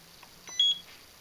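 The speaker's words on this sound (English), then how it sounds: "each time that beeps, a magnetic pulse comes out of this paddle, which has a coil in it" A magnetic pulser device built on the Bob Beck design gives a short, clear electronic double beep, quiet and close against a faint background hum.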